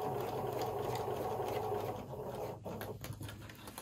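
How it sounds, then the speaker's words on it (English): A sewing machine stitches fabric forward and then back stitches, making a faint, quick mechanical whirring patter that briefly breaks up before resuming. "I'm going to stitch down and back stitch."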